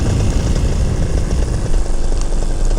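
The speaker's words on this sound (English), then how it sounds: "I may have to do a slight crosswind landing here." Small propeller airplane droning steadily and loudly from close by, its engine humming without pause as it sets up a crosswind landing over the Smoky Mountains.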